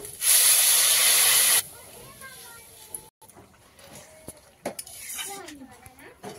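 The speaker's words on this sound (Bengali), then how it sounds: "কচুটা কষানো হয়ে গেছে, আর দিয়ে দিচ্ছি গরম জল।" Hot water hits a pan of frying taro curry with a loud, sharp sizzling hiss lasting about a second, followed by quieter bubbling, utensil clinks and someone talking.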